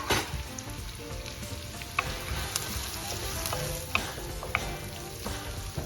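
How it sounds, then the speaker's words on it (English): Celery and carrots stir-fry over high heat in a wok, giving a steady close sizzle with occasional clinks and scrapes of the stirring utensil, and no voices. "just stir fry this on a high heat"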